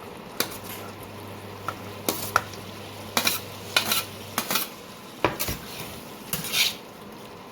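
Potatoes and pointed gourd going into a pan of cooked-down masala and being stirred, with a series of sharp metal spatula clanks and scrapes against the pan over a faint background sizzle.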